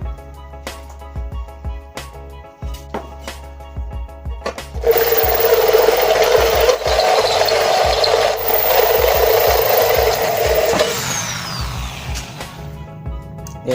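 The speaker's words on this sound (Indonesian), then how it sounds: "Yuk kita langsung lagi ke pengeborannya." Power drill spinning a hole saw into a workpiece, first scattered clicks and knocks, then a loud steady grinding whir for about six seconds that winds down.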